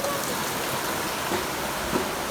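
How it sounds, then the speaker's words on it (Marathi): Heavy rain pours down as a steady, dense hiss throughout, close and unbroken, with no voices over it. "पाऊस डेंजर आहे"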